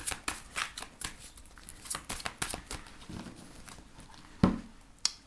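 Tarot cards being shuffled by hand in a quiet room, a rapid run of crisp papery riffles and flicks in uneven bursts, close up, ending with a couple of sharper slaps as the deck is squared.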